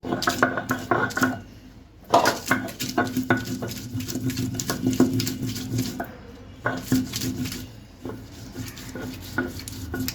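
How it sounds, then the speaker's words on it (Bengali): A handful of green chilies is crushed on a traditional grinding stone, making rhythmic gritty scraping and knocking strokes up close. There are short pauses around the second and sixth seconds, and no voices. "হাফ কিলো চিংড়ি মাছ বাটার জন্য ঠিক এক মুঠো কাঁচামরিচ আমি এখন বেটে নিচ্ছি"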